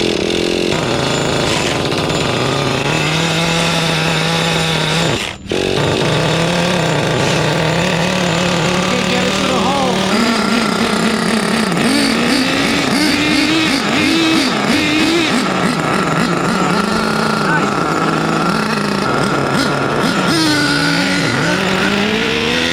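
A Traxxas T-Maxx 3.3 nitro RC truck engine with a drilled exhaust pipe screams loudly and continuously nearby, its pitch rising and falling with throttle blips and revs, and it briefly cuts out once early on.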